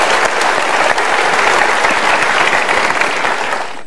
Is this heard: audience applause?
yes